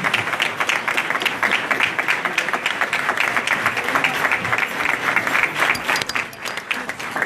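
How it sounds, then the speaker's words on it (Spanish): A crowd applauds steadily and fairly loudly at a housing handover ceremony, with dense continuous clapping throughout. "Fuerte aplauso, felicitaciones."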